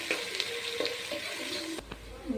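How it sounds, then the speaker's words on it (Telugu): Green chillies and onions fry for chicken biryani in a pan, a close, steady crackling sizzle with faint stirring, which cuts off abruptly near the end. "పచ్చిమిర్చి, ఆనియన్స్ వేసుకోవాలి. కొంచెం బ్రౌనిష్గా ఫ్రై చేసుకోవాలి."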